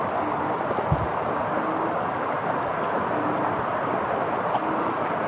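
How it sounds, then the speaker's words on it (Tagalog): Heavy rain pours down in front of a house, a constant, thick hiss of downpour with a low thump near the start and no voices. "Grabe lakas ng ulan."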